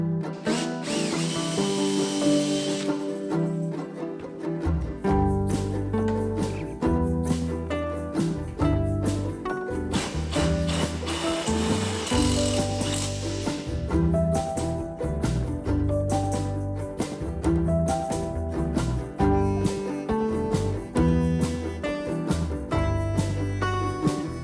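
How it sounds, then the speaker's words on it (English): Power drill pre-drilling a hole in metal, then a driver running in a self-tapping screw: loud, continuous whirring with pulsing, stuttering motor bursts and changing pitch, close up and alone throughout. "we pre-drill it, and then we'll run it in with a driver"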